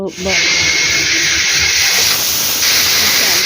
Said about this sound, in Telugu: ఒక 4 విజిల్స్ వచ్చే వరకు రైస్ మనం ఉడకపెట్టుకోవాలి.